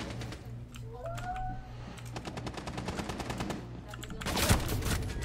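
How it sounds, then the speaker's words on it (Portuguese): Rapid bursts of machine gun fire in the Rainbow Six video game, loud repeated rattling volleys that run through most of the stretch over a low steady hum, with a heavier burst near the end. "Metralhadora mesmo, filho."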